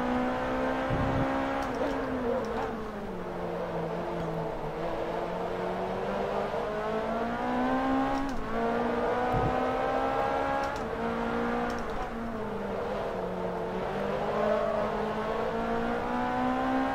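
Race car engine in Forza Motorsport 3 drones steadily throughout, its pitch rising and falling with gear changes and revs, loud and continuous with no talk.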